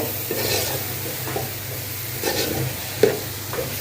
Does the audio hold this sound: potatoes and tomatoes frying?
yes